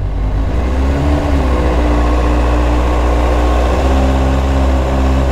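BMW sport bike engine revved via the carburettor, a loud, close, steady droning hum with a slight rise in pitch, continuous throughout.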